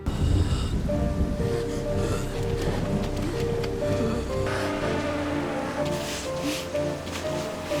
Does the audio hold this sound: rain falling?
yes